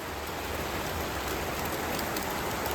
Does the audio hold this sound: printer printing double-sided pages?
no